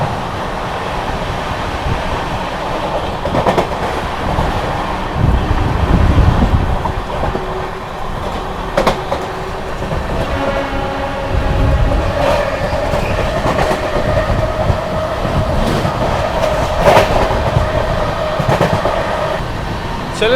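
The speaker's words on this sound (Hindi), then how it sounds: "काफी अच्छी रफ्तार में स्किप कर रही है अपनी विक्रमशिला एक्सप्रेस अलीगढ़ जंक्शन को" Vikramshila Express, the Anand Vihar–Bhagalpur train, runs at speed past Aligarh Junction with a loud, continuous roar and a rhythmic clickety-clack of wheels over rail joints, plus occasional rattles.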